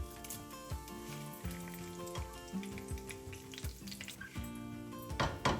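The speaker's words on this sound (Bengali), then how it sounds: "একটু গরম মশলাটা একটু ভাজা হতে থাক" Garam masala and dry curry leaves fry in a pan, a steady close sizzle with occasional stirring scrapes beneath a continuous tonal background, without any talk.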